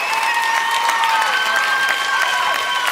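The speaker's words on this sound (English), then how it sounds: "Put your hands together for All Star Twitch" Audience applause fills a television dance competition studio, steady and loud clapping with a few cheers mixed in, sustained throughout with no break.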